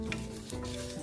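Sesame seeds and timur pepper dry-roasting in a pan, stirred with light scraping and a faint crackle over a brief, close moment.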